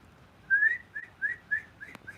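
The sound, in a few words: inhaled whistling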